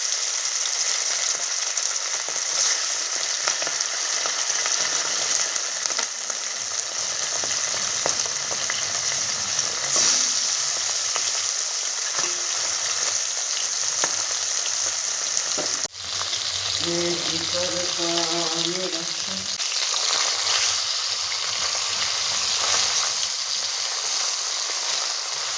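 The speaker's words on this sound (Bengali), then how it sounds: "এবার তাতে আমরা মাছটা ভেজে নেব।" Tilapia pieces fry in hot mustard oil in a pan, a loud, continuous sizzling crackle with occasional spatters, and a brief voice near the end.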